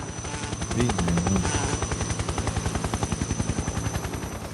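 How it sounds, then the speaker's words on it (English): A helicopter in the video game Metal Gear Solid 3 thumps with fast, rhythmic rotor chops, steady and fairly close, with a whining engine tone underneath. "It's a helicopter."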